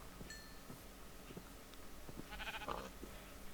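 Sheep bleat in the Minecraft video game, a few soft bleats rising out of a steady low game hum, fairly faint and with no talking over them.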